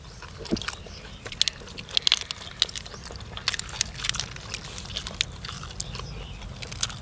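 Spicy snail salad is chewed with loud, crisp crunches that come close and repeat irregularly over several seconds, with no talk over them.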